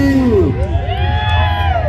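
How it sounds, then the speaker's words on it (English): A bar crowd at a coleslaw wrestling event at Daytona Beach Bike Week whoops and cheers loudly and up close, with yelling voices rising over a dense crowd roar for a couple of seconds. "Everybody, let's cheer for Maybe. Who's on Maybe's side? Let's hear you."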